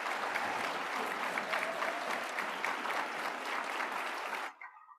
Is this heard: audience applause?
yes